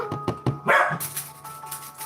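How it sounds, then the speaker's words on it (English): Several dogs bark in quick bursts nearby, a few sharp yaps followed by a louder bark and fainter barking continuing behind. "Let me see what they're barking at."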